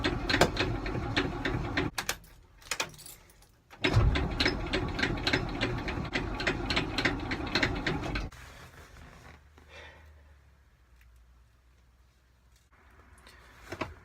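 A carbureted truck with a fuel-pump problem cranks without starting: a starter churns in rapid, rhythmic pulses for about two seconds, pauses, then cranks again for roughly four seconds before falling quiet.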